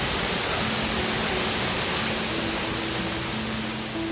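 Diyawini Ella waterfall in the hills of Sri Lanka, a steady, dense rush of falling water heard close and unbroken throughout, with no voices.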